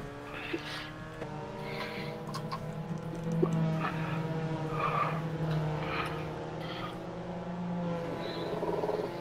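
A Mazda MX5 Cup race car at Imola in a racing game skids into a spin, tires squealing in long wavering whines over a droning engine, with a voice talking over it.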